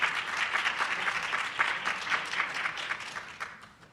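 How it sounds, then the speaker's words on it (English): Applause from a community meeting audience at a neighborhood plan launch, a moderately close burst of clapping that swells early and then gradually tapers off. "Clap it up."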